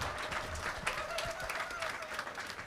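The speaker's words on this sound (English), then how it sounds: "It's okay to clap." Audience clapping at a political teach-in on NATO and Ukraine as a journalist is introduced, a moderate, steady patter of hands with murmured voices underneath.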